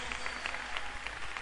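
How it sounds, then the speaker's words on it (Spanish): Church congregation applauding at a fairly low level, a brief dense wash of clapping with no voices. "¿Por qué no le damos un fuerte aplauso con todas nuestras fuerzas?"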